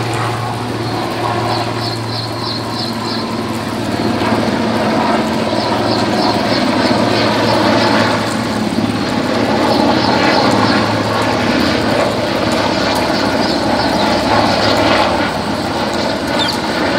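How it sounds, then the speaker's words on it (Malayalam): A navy helicopter flies overhead during flooding. Its loud, sustained rotor drone and engine roar stay steady throughout, with the blade chop pulsing over a low hum. "നേവിക്കാരുടെ ഒരു ഹെലികോപ്റ്റർ വരും"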